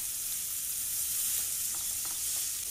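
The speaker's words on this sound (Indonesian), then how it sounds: "Ini kita tumis. Di tahap ini dagingnya itu akan mengeluarkan air." Wagyu beef sautés in a pan, giving off a bright, even sizzling hiss as the meat releases its juices, close and continuous with a few faint pops and no talking.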